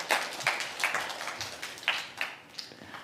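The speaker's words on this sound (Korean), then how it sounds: "그래서 그 높은 곳을 향해 전체 박수 한번 쳐주세요." Scattered claps from a church congregation, faint and sparse, with uneven individual hand claps spread across the room rather than a full ovation.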